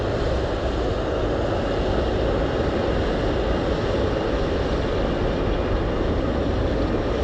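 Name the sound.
cargo aircraft landing at Anchorage airport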